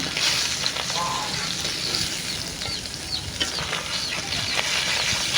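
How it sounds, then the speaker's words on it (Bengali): Fish pieces fry in hot oil in a pan, a loud, dense crackling sizzle running the whole time, with faint clinks as the pieces are turned over. "এবার উল্টে পাল্টিয়ে মাছগুলো ভেজে নিচ্ছি।"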